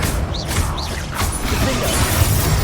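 Confringo blasting spell cast in the Hogwarts Legacy video game, a dense crackling burst with brief rising whooshes, steady and loud for about three seconds against continuous low rumble, with no talking.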